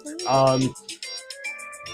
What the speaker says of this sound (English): I'm not going to answer that phone because I'm on here.